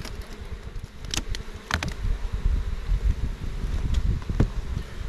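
Honeybees drone steadily from an opened, long-abandoned hive, a dense close buzz with a few louder passes of single bees flying near.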